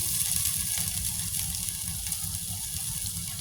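Ginger hitting hot cooking oil in a home kitchen pan, a steady close sizzle with a constant hiss and low bubbling crackle running throughout, no voices over it.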